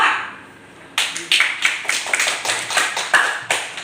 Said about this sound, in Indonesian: kita berikan aplaus untuk kelompok 2